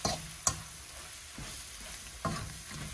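Eggs stirred and frying in a pan, a steady sizzle under a few sharp scrapes and knocks of the spoon, close and moderately loud, with no talking.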